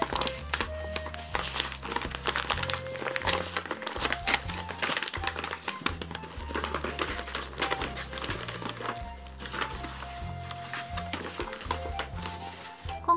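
Plastic bags holding cotton knit yarn balls crinkle and crackle continuously as they are handled and opened nearby, over soft background music.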